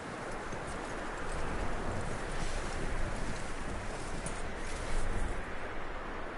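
Horse hooves clip-clopping in Red Dead Redemption 2, a steady rhythmic beat of hoofsteps over constant wind and rushing ambient noise, fairly close and without speech.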